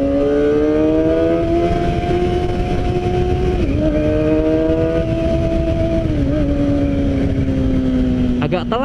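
A modified Kawasaki ZX25R motorcycle with an Arrow exhaust accelerates hard, its engine note climbing through quick-shifted gears with brief dips at each change, loud and close under wind rush.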